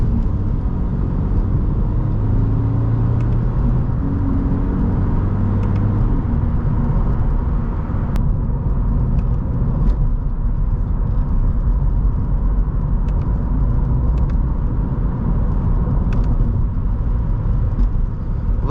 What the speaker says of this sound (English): when you downshift, the car automatically rev matches, which is really cool